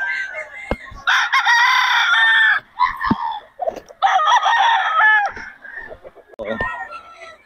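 A Sweater gamefowl rooster crows at an outdoor market in Bocaue, loud and close, with several harsh, drawn-out crows and clucks in bursts over background chatter.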